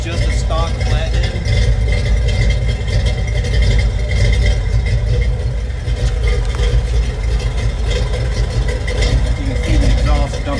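A low, steady stock flathead engine idle on a test stand rumbles continuously at close range, with a deep Flowmaster exhaust burble and people talking over it.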